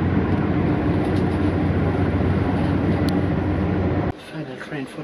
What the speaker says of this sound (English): The overwhelming beauty of German train stations.